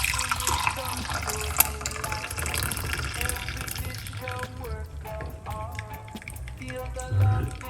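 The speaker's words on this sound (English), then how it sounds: "Let's pour it out." Hot garlic and lemon tea is poured out of a pot in a kitchen, a trickling, splashing stream of liquid heard up close that continues under background sounds.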